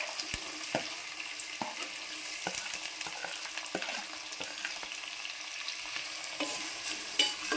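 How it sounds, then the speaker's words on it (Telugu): Two large finely chopped onions frying in a pan with green chillies, a soft steady sizzle broken by repeated scraping stirs of a spoon against the pan, close and quiet, no talking. "ఈ ఉల్లిపాయ ముక్కలు దోరగా యాగనిద్దాం."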